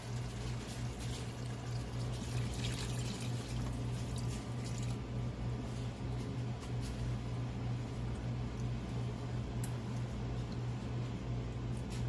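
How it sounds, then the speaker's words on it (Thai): Soup pours steadily into a pot, a continuous wash of sound over a low hum with no talking. "เทน้ำซุปที่อยู่ในหม้อเนี่ยค่ะ ลงไปเลยนะคะเพื่อนๆ"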